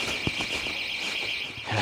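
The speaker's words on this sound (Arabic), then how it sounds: "جهاز الانذار ده كنتش اعرف ان هيكون في جهاز انذار" Electronic alarm sounding inside an abandoned house in a forest, a steady high-pitched tone ringing continuously throughout, with a few faint knocks and thuds underneath.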